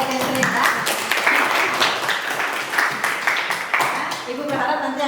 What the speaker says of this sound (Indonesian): Tepuk tangan juga buat Kesrin ya.